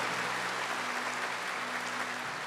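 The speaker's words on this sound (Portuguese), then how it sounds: "Pode aplaudir forte isso. Pode aplaudir com força" A congregation at a Marian Mass applauds in a big hall. The clapping is continuous, dense and distant-sounding, with a low steady hum underneath.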